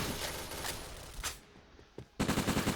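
Rapid bursts of MPT-76 rifle fire in the video game Point Blank crackle in quick succession, broken by a short pause and a single sharp shot before another loud volley.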